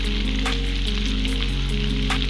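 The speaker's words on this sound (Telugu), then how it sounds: "బాయిల్ చేసి తీసుకున్న రొయ్యల్ని యాడ్ చేసుకుని ఒక రెండు నిమిషాల పాటు వేగించుకుందాం" Steady, loud sizzling of boiled prawns frying in hot oil, with a couple of brief scraping stirs; no voices.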